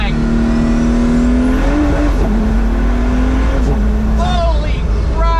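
A Pagani Huayra Roadster BC engine accelerates hard from inside the car, a loud, close mechanical roar that rises in pitch through the gears with shift breaks and a brief squeal, filling the whole stretch.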